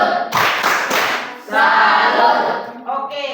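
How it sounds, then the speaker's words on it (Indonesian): A group claps a rhythmic 'tepuk salut' cheer during an Indonesian classroom coaching session, loud, close bursts of unison clapping in distinct phrases with short pauses between them. "kita beri tepuk salut untuk kelompok 2"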